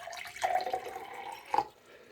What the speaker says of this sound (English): I'm going to pour some water into this glass